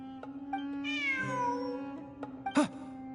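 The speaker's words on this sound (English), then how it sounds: "Look, a cat." A cat in Genshin Impact gives a single clear, drawn-out meow with a rising-then-falling pitch, followed by a short sharper chirp, over a faint steady background hum.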